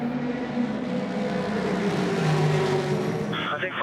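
The No. 83 Ferrari race car screams past during the 2015 6 Hours of Shanghai endurance race, its engine a loud, steady, high-revving roar that holds for the whole moment.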